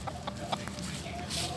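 Several short clucks from a hen on a Vietnamese backyard poultry setup, scattered across the moment with a faint rustle near the end.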